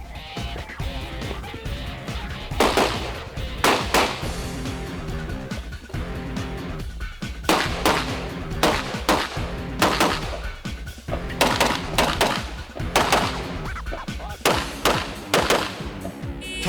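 Competitors fire at the 2004 USPSA MultiGun Nationals in clusters of rapid, sharp shots separated by short pauses, with a steady background bed running beneath the bursts.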